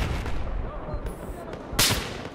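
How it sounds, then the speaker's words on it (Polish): Gunfire in the Battlefield 4 video game on the Caspian Border map, a few distant muffled shots and one sharper, louder crack near the end, under a steady background din. "O, strzela do mnie."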